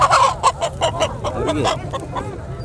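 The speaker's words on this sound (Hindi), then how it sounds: "मुर्गी है ये।" A bird gives a rapid series of clucking, honking calls up close, loud at first and then trailing off over a couple of seconds.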